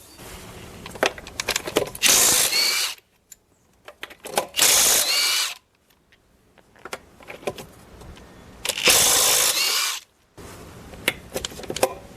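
Impact tool with a 22 mm socket spinning off the front wheel lug nuts of a Dodge Challenger R/T Scat Pack Widebody, three loud, sustained whirring bursts of about a second each, separated by quieter clinks and handling noise.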